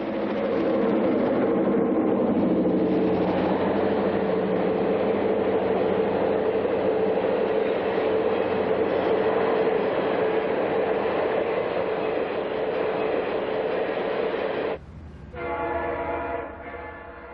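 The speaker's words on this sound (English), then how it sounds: "The Chief pulls out of La Junta behind 4 units in the traditional ABBA lash-up." A Santa Fe passenger train, the Chief, pulls out of La Junta behind four diesel units in an ABBA lash-up, a loud, steady roar of engines and rolling cars that drops off near the end, with a brief horn-like tone.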